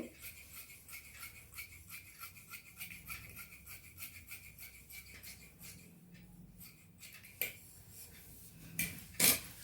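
Scissors snipping through sari cloth while cutting pieces for a two-layer kids' lehenga, with a run of quick, light, rhythmic cuts close by, then a pause and a few louder, sharper snips near the end.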